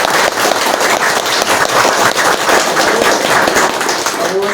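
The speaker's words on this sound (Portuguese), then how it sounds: "Vamos bater palma para ele" An audience at a Spiritist talk claps, a dense, steady wash of many hands applauding loudly for a few seconds without pause.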